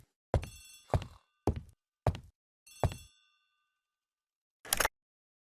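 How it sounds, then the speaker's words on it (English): An old-fashioned telephone rings in the hall in an Agatha Christie mystery game, five bright metallic bell rings in an even rhythm, then a pause and a final shorter ring, clear and alone. "The telephone in the hall is ringing."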